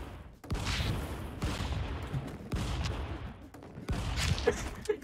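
Repeated shotgun blasts in the Stick Fight video game, roughly four sharp bursts about a second apart, each decaying into a noisy rumble, fairly loud and without talk.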